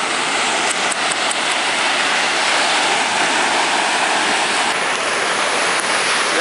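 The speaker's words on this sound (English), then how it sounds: "Love those waves." Ocean surf in Siargao while surfing, a steady loud broadband roar of breaking waves and rushing water, continuous throughout with no voices.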